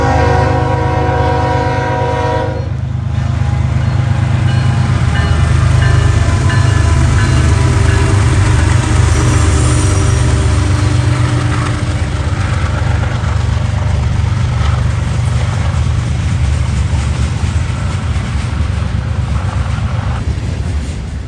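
Eastbound M364 daily manifest freight, a long train of up to 210 cars from Avon, Indiana to Selkirk, New York, rolls by loud and close in Marion, Ohio, its horn sounding at the start before a sustained rumble of passing wagons.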